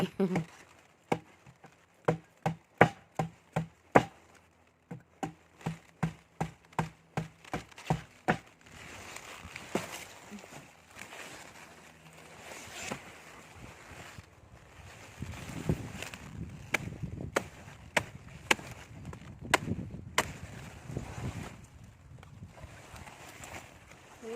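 A series of sharp, crisp cutting snaps at an uneven pace, close by, as thick stems of a large leafy vegetable plant are cut, followed by rustling of foliage and a soft voice in the background.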